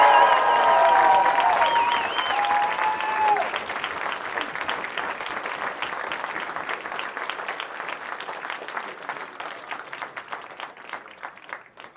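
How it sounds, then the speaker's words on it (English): A stadium crowd at the Orkney 2025 Island Games athletics evening session applauds a Shetland sprinter's silver-medal run, a steady wash of clapping that follows a brief tonal voice or PA announcement and gradually thins and fades over about twelve seconds. "Please give a gigantic round of applause for Katie Tindwoody."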